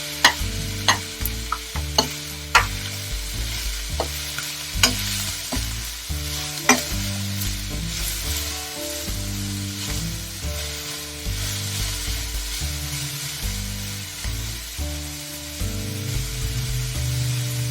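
Onion and garlic fry in a pan for a village-style fenugreek leaf dish, a steady sizzle punctuated by sharp scrapes and clacks of stirring, with a low musical background underneath.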